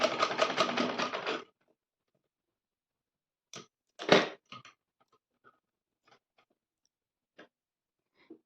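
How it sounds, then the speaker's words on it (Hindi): A sewing machine runs a quick rattling burst while double-stitching the hem of a dhoti salwar, then stops, followed by a few faint scattered clicks and handling taps in a quiet room. "मैं उसको डबल सिलाई कर रही हूँ वापस"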